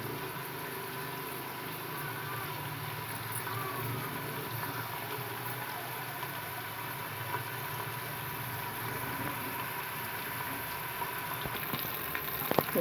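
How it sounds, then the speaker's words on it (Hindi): Onions for a simple potato pulao fry in hot oil until brown, a soft steady sizzle with faint crackles that holds evenly throughout, close but quiet, with no voices. "जैसे कि प्याज अभी ब्राउन हो रही है।"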